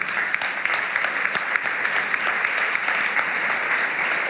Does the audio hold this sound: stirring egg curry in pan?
no